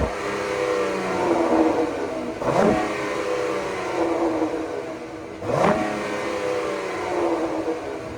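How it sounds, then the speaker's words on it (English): A 2025 Ram pickup truck engine under a low idle, with two quick revs that rise and fall around a steady background rush, moderately loud and alone. "Let me try to get an engine rev for you real quick."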